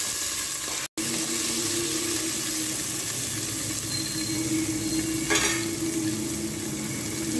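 Ginger, onion and tomato sauteing in a pot for shrimp sinigang make a constant, nearby hissing sizzle with a faint hum beneath it, interrupted by one very brief dropout near the start, and no speech.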